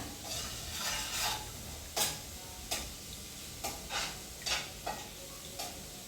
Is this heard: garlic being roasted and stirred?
yes